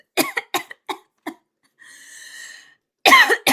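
Person coughing in a short burst of about five dry coughs, then a wheezy breath, then a harsher cough fit, close and alone.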